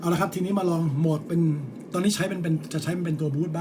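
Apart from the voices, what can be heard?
No distinct noise like a dog, phone or traffic.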